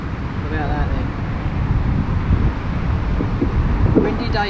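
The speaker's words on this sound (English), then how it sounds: "Windy day down on the pit" Wind gusts across an outdoor carp-fishing pit, a steady low rumble buffeting the microphone close up, with faint sounds of movement mixed in.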